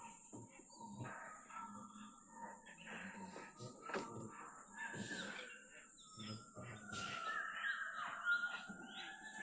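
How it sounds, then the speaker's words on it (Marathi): Various birds call in a jungle in the Pench Tiger Reserve core zone, faint chirps and calls scattered over quiet background, with a rooster-like crow from a jungle fowl in the distance. "वेगवेगळ्या पक्ष्यांचे आवाज ऐकायला येतील"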